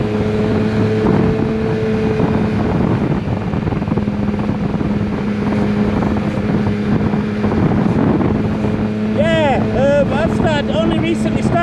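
Yamaha Niken three-wheeled motorcycle with an 800cc engine, riding at speed with a steady engine drone and heavy wind rush throughout, and someone talking over it.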